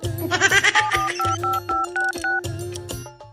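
Mobile phone keys tapped to dial a number, producing a quick series of short electronic tones in irregular rhythm, close and clear, with a voice briefly audible at the start.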